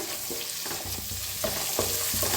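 A spoonful of ginger garlic paste frying in a pan while it is stirred, a close sizzle with repeated scraping strokes of the spoon at an even, brisk rhythm.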